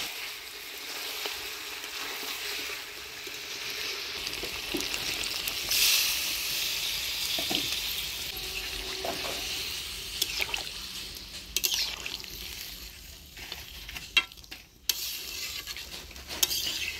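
Broth poured into a pan of frying chicken and potato curry, a rising liquid splash and hiss, followed by stirring and utensil clinks against the pot at close range.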